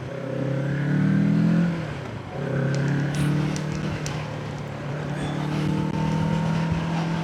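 A Kawasaki Z650 S 2026 roadster motorcycle engine revs high and loud at speed, its droning note rising and falling through the gears with steady rushing wind.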